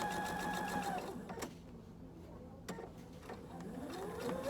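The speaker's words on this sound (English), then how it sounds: "And I just sew down again, making sure I don't have anything caught underneath." A sewing machine stitches fabric in steady, rapid mechanical bursts, close and clear, pausing briefly with small clicks before whirring up again.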